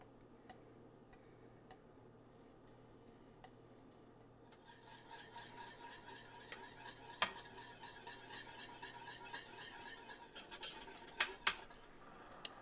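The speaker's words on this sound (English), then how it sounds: "I'm going to whisk it all together so the gelatin melts." Gelatin and guava jam whisked together in a pot for homemade jam, starting as faint scattered ticks, then turning into a continuous scraping, rasping stir with sharper clicks of the whisk against the pot.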